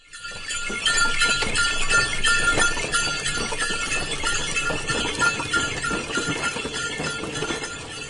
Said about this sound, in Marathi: बैलगाडी.